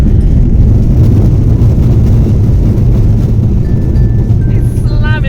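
A passenger airplane landing on the Gibraltar runway beside the sea, heard from inside the cabin as a loud, steady low roar of engines and braking with rushing noise, while people talk faintly.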